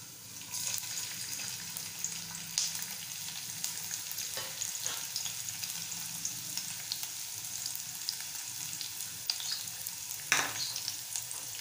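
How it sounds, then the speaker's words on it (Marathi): Chopped garlic, a little minced ginger and curry leaves sizzle steadily in hot oil in a pan, with occasional stirring clinks and pops, fairly quiet and without talking. "त्यामध्ये बारीक चॉप केलेला लसूण, थोडासा आल्याचा तुकडा बारीक केलाय आणि कढीपत्ता तो टाकूया"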